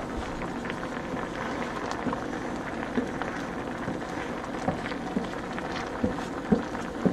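Chicken marsala sauce simmers and reduces in a pan, a steady bubbling hiss with scattered small pops, close and constant, with no voices.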